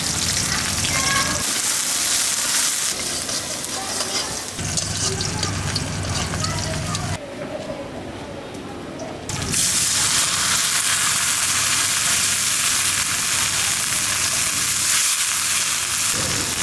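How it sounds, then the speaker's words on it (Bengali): Chopped onion and green chilli sizzle in hot oil for a village fish curry, a loud, continuous frying hiss that drops briefly in the middle and then surges back even stronger, with stirring and a voice under it in places. "তেল দিয়ে দিলাম তরকারি রান্না করার জন্য। পেঁয়াজ কুচি, কাঁচামরিচ কুচি"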